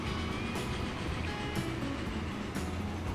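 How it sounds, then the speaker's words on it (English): A big cargo train running in the Transport Fever railway simulation, a steady loud rumble with faint rhythmic clacks recurring about once a second, heard alone. "It really feels like a big cargo train"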